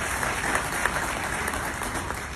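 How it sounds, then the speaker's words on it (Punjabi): An audience at a Chandigarh University campus event applauds during a shayari performance, giving dense, steady clapping from a large crowd throughout. "ਜ਼ੋਰ ਦਾ ਤਾੜੀ ਇਸ ਕੈਂਪਸ ਦੇ ਨਾਮ"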